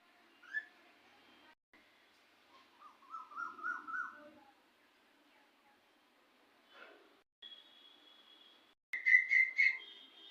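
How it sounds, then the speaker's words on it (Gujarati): An Asian koel sings in short, melodic, whistled phrases, faint and distant against quiet surroundings, with a few other bird chirps and a louder rising call near the end. "કેટલી મસ્ત કોયલ બોલે છે"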